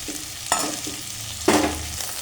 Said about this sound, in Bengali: আলুটা ভাজা হচ্ছে, সয়াবিনটাও ভাজা হয়ে যাবে